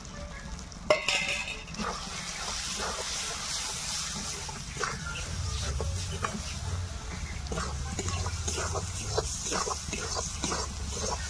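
Salt, turmeric, Kashmiri chilli and meat masala sizzle in chicken gravy in a pan, with a steady frying hiss under repeated close stirring and scraping strokes, and no voices.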